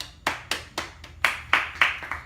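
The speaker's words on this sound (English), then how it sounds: "let's take a moment to applaud him." Applause for John Lasseter at a company speech event, heard as a sparse, close series of distinct single claps at a steady pace, sounding like one or a few people clapping rather than a full crowd.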